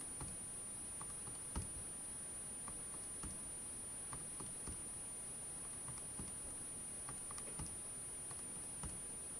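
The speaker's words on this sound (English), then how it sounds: "we hit stat, edit, type in our numbers" Calculator keys pressed to enter numbers: faint, quick plastic taps in an irregular run, steady and close against a constant low hiss, no voices.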